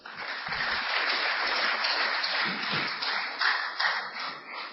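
An audience at a gathering welcoming Rajiv Dixit to the stage claps steadily and continuously, a dense wash of many hands held at an even moderate level throughout, with no voices over it.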